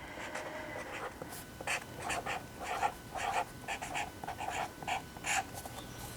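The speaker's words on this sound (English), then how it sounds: "I'm going to write my name up at the top of the page" A marker squeaks and scratches across a paper page in a run of short strokes, close and fairly quiet, with no talking.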